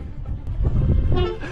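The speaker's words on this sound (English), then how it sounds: "honk!" A train horn sounds from a UK railway platform, a loud sustained tone swelling through the second half of the short clip over rumbling low noise.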